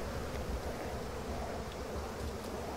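Swarm of bees in the strategy game Massive Chalice, a steady, soft, continuous buzzing drone with no talk over it.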